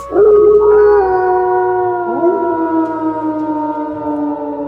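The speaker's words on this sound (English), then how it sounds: "you hear those howls all around you in the woods" Ear-splitting creature howl, a loud, close, drawn-out wail with layered sliding pitches that dips and settles, fading slowly while sustained.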